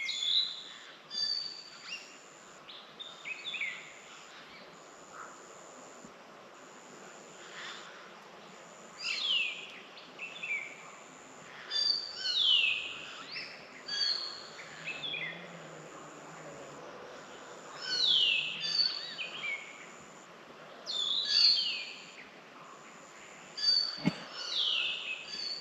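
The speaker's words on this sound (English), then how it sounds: "we stopped by the roadside to hear to some beautiful bird calls" Birds call beside a road in the countryside at dusk, repeated sharp, whistled chirps and descending notes arriving in scattered bursts over a faint, steady insect drone, some calls close and others more distant.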